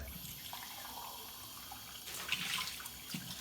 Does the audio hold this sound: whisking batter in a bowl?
no